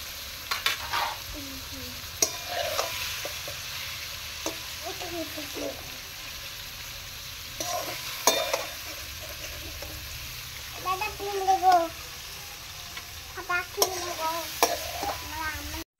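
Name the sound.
paneer frying in oil, being taken out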